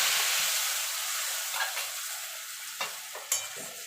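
Turmeric and slit green chilies fry in hot oil as the spice base for mustard hilsa. A loud, close sizzle slowly fades while a spoon stirs and scrapes the pan in a few sharp strokes.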